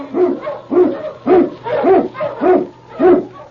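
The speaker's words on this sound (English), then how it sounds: "King, the swiftest, strongest of Eskimo lead dogs, blazes the trail through storm and snow" Husky sled dogs, including an Eskimo lead dog, bark in a steady, rhythmic series of about seven loud, close yelps, each roughly half a second apart, with no talking over them.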